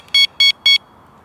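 Three evenly spaced electronic beeps from a Mivardi M1350 wireless carp-fishing bite alarm, each tone short, bright and loud, stepping through volume levels with quiet gaps between and no talk.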